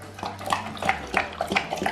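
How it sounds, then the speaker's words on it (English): A dog lapping water from a bowl on command, heard as a close, quick series of wet laps in an uneven rhythm with no talking. "So if I tell him drink water, he will drink it."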